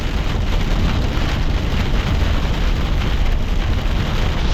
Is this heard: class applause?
no